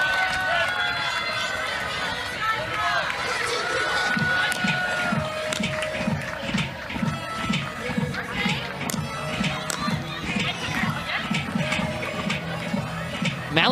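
The CBU softball team dugout keeps up constant cheering and chatter at a college game, busy layered voices and shouts with rhythmic thumping and shuffling, fairly close and lively throughout.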